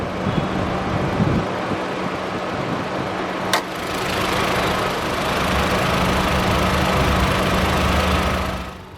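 A 2018 Honda Civic's 1.5-liter turbocharged four-cylinder engine idles with a steady, smooth hum, heard up close with a brief click partway through and no talking.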